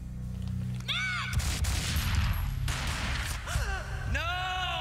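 Gunshots in the Max Payne video game: a burst of loud, crackling shots lands mid-clip amid dramatic noise, framed by gasping, sighing vocal sounds before and after.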